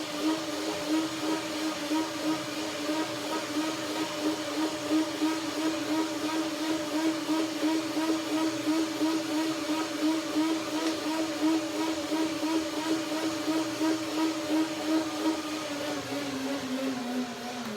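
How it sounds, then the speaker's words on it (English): A blender whirs steadily, blending blueberries, strawberries and papaya into a cinnamon cashew cream, holding one sustained droning pitch that sags slightly near the end as it winds down. "So one more blending."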